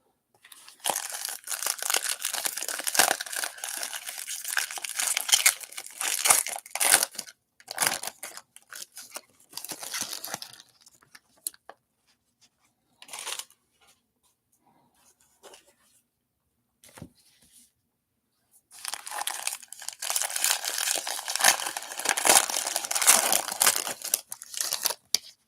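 A hobby pack of 2021 Prizm football trading cards torn open by hand, bursts of crisp crinkling and tearing wrapper foil up close, broken by quiet pauses and then a long final stretch of rustling, with no talk.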